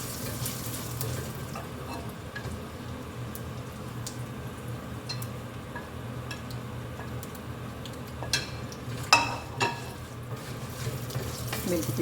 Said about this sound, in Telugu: ముందే పోపు రెడీ చేసి పెట్టుకుంటున్నాం అనమాట